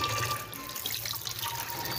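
Food is washed under a running kitchen tap, giving a steady close rush of water splashing into a sink with slight fluctuations, and no voices over it.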